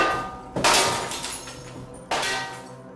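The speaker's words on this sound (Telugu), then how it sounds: "బయటికి రాగానే కొన్ని ప్లేట్లు కింద పడి పగిలిపోయి ఉండటం చూసింది" Plates falling to a floor and shattering in a home: two separate loud crashes with a ringing breakup that trails off after each one.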